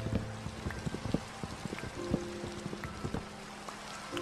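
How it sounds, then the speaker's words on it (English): Rain falls in a video game, a steady hiss with scattered droplet taps and soft patters spread evenly throughout, no voices. "Oh, it's raining."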